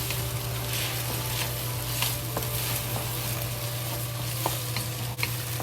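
Eggs with scallions fry in a pot, giving off a loud, constant close sizzle and crackle with a low steady hum underneath and a few light utensil taps, with no voices.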